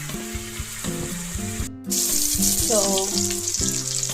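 Onion, chili, garlic and tomato fry in oil with masalas, making a continuous hissing sizzle beneath melodic background music; there is a brief drop near the middle before the sizzle returns louder.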